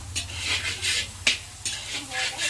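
Ginger and garlic frying in a pan while being stirred, an ongoing sizzle broken by repeated scraping strokes and one sharp clink of the utensil against the pan, fairly close and with no talking.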